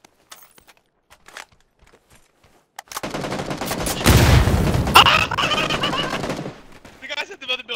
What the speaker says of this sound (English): I'm gonna panzer in there.